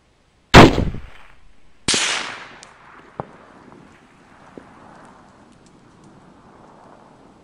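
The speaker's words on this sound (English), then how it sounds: "Were you shooting at the large target?" Rifle shots at a 1000-yard range target, from calibers such as .260 Rem, .338 Lapua or 6.5 Creedmoor: one loud, close blast, then a second report with a long rolling echo and a few faint distant cracks.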